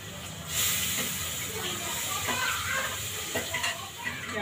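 Cumin seeds hit hot oil in a home kitchen pan, giving off a steady, soft sizzling hiss that swells suddenly at the start and keeps crackling faintly, with a voice talking lightly over it.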